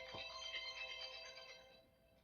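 A phone ringtone plays in a quiet room where miniature painting is underway, a bright repeating melodic tone held steadily for a couple of seconds at moderate volume.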